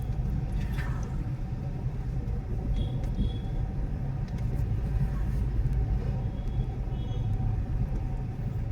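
Car driving through congested Mint Street traffic in a city, a continuous low engine rumble and road noise with faint passing sounds and occasional light horn-like tones, fairly close and steady throughout.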